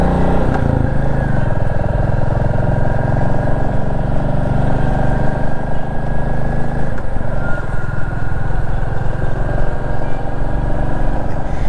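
Royal Enfield Classic 350 motorcycle running at low RPM, a loud, steady, close thumping engine drone that holds an even rumble without revving throughout.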